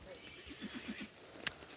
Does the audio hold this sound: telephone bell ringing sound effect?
no